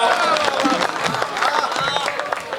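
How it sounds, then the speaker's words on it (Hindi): An audience at a Hindi comedy poetry gathering breaks into continuous applause with crowd noise and some cheering, while a voice carries on talking over it. "एक बार इनके लिए जोरदार तालियां बजाओ"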